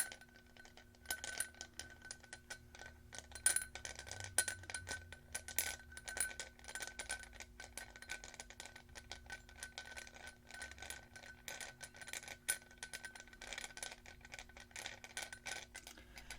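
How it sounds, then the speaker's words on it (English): A brush dips into a glass bowl filled with pearls, giving soft, quiet clicking and rattling. Small hard beads tap against each other and the glass in scattered bursts over a faint background, with no voice. "So I have this glass bowl that's filled with pearls."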